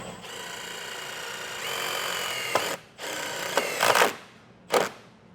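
A power drill drives a self-tapping screw into the body of a 2025 Jeep Grand Cherokee next to a wiring control box, whining steadily in close bursts, then stopping with a couple of short sharp ratcheting spins at the end.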